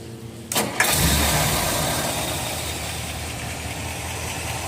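A 1957 Ford Thunderbird engine cranks briefly, catches and starts right up, then settles into a steady, rumbling idle close by. No voices are heard.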